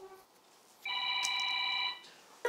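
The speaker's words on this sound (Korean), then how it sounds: "전화 오는데?" A telephone rings indoors at home with one clear electronic trill lasting about a second, moderately loud against a quiet room, followed by the start of another ring.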